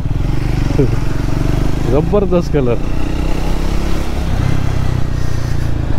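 A Triumph Speed 400 motorcycle engine idles and runs steadily close by while someone talks over it in Marathi.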